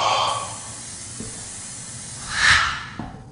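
Spray paint hissing in the horror game Caged Fear, a soft airy burst that swells and fades near the end, set over a low ambient background with faint thumps.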